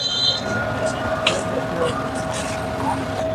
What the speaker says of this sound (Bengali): এই যে দেখতে পাচ্ছেন ট্রেন চলে যাচ্ছে লাকসাম জংশন থেকে চট্টগ্রামের উদ্দেশ্যে